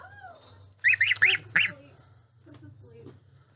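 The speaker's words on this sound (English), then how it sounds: "That's a goose, a boy goose." A male goose gives four loud, close honks in a quick burst, then falls quiet over a low steady hum, with soft voices nearby.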